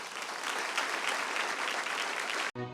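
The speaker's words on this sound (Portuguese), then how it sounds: "Aplauda o nome de Jesus." A church congregation applauding during a late-night service, a dense, even wash of clapping that stops abruptly near the end.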